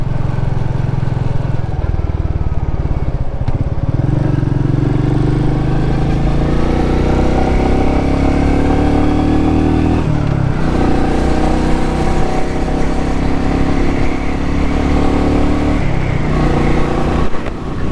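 Engine of a nearly new Royal Enfield motorcycle, under 1,000 miles, droning on continuously while ridden, near and steady, with a few brief dips and rises in pitch as speed changes; no one talks.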